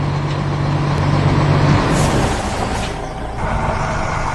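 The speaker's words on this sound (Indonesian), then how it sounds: "Lihatlah, truk kuning besar itu berjalan menyusuri kota." A big yellow truck rolls through town with a steady, loud engine rumble and road noise, plus a brief hiss like an air brake.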